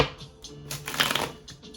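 Tarot cards riffle and shuffle in a quick burst of papery flutters, close and fairly quiet, with a denser flurry near the middle.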